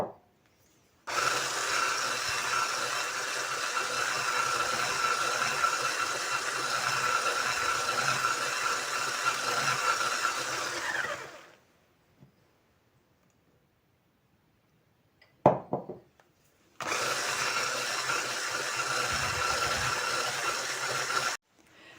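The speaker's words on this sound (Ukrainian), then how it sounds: "Вливаємо і також перемішуємо з желатином." Jelly cake batter being stirred together with dissolved gelatin, a steady broadband whir or scraping that runs for about ten seconds, cuts out, gives one brief burst, then resumes loud and close with no talk.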